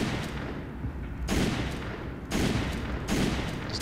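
Rapid automatic gunfire in the video game Resident Evil 5 comes in three loud, dense bursts of rattling shots separated by brief lulls, heard up front without talk.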